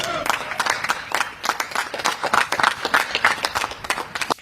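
A small group of men clap together in quick uneven bursts, fairly close, with some talk mixed in.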